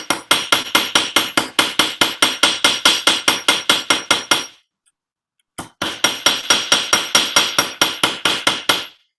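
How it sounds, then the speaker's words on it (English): Rapid, steady hammer blows ring on sheet metal during fold forming, about two dozen strikes, a short pause, then another quick run of bright metallic hits. "So I'll just do a little bit more hammering here"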